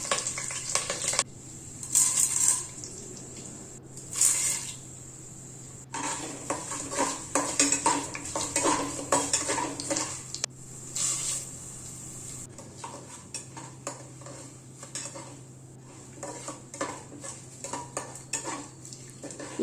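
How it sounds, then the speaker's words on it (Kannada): A tempering of curry leaves, chana dal, urad dal and cumin frying in oil for avalakki uppittu, heard as a steady sizzle under loud, repeated clinks of a metal spoon against the pan; no talking. "ಈಗ ಒಗ್ಗರಣೆಗೆ ಕರಿಬೇವಿನ ಸೊಪ್ಪು, ಕಡಲೆಬೇಳೆ, ಉದ್ದಿನಬೇಳೆ ಮತ್ತು ಜೀರಿಗೆನ ಹಾಕಿ 1 ನಿಮಿಷ ಫ್ರೈ ಮಾಡ್ಕೊಳ್ಳೋಣ."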